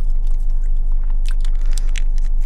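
Close, loud crunching of a crispy Taco Bell taco with cold lettuce, several sharp bites and chews in quick irregular succession, heard alone without talk.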